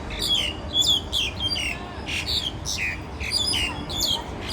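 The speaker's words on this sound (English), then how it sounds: "And as you can hear, lots of bird song." Birds in Hong Kong sing in repeated bright, squeaky phrases, several calls overlapping against a soft outdoor background hiss.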